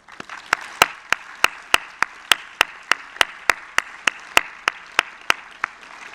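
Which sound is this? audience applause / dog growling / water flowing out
audience applause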